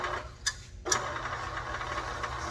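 A well puller machine hoisting a pipe runs steadily with a low mechanical hum and a faint rattle, broken by two brief sharp clicks early on.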